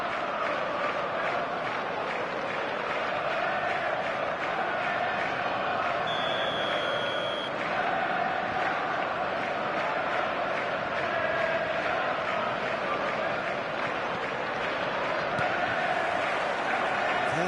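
Dense stadium crowd noise from an eFootball match broadcast, a steady roar of fans chanting and cheering that runs unbroken throughout, with a commentator talking over it.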